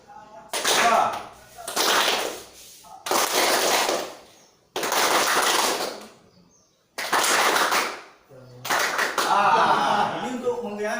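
A group claps in a concentration game, in five or six bursts of rapid, dense clapping lasting about a second each and separated by short silences.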